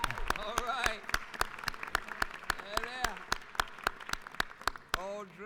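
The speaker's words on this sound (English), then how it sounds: "we'll give you a round of applause" Sharp, evenly spaced claps ring out on the floor of the Georgia House chamber in honour of funeral service practitioners, under an ongoing spoken voice throughout.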